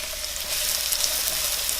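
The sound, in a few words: onions and garlic frying in olive oil in saute pan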